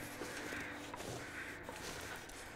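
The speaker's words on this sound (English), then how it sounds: "we got crows. They're finally appearing." Crows cawing in the video game The Long Dark, a few harsh caws rising over steady, loud wind noise in a cold, blustery outdoor setting.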